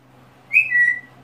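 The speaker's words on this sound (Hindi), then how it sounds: "कोई सीटी मत मारो" A pet parrot gives one short, clear whistle, a bright tone that holds briefly and dips slightly in pitch near the end, close by against a quiet background.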